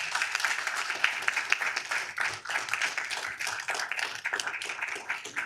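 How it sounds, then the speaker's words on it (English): Audience applause at a city council meeting, dense steady clapping from many people that carries on evenly for several seconds at moderate distance. "let's give them a round of applause, folks"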